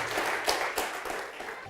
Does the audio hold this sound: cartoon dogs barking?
no